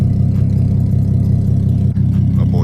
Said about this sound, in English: We got a new exhaust on it